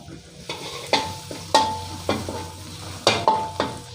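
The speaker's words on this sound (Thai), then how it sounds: "เจียวกระเทียมให้หอมครับ" Garlic fries in oil in a pan, a soft sizzle running under repeated sharp scrapes and knocks of a utensil stirring against the metal at an uneven, brisk rhythm.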